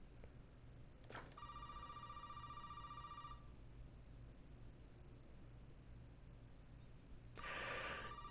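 A telephone rings inside another room of the Resident Evil 7 demo, with one short burst followed by a steady electronic trill, then a second burst near the end, heard over low ambient hum.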